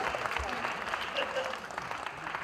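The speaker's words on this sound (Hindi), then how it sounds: "इसी बात पे सारे मर्द तालियां बजाएंगे" Steady, dense clapping from a TV studio audience fills the whole stretch, even and sustained without pauses.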